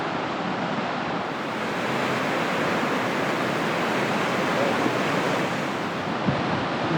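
Ocean surf washes onto a beach far below a coastal embankment at Narooma, a continuous broad roar of waves mixed with wind on the microphone.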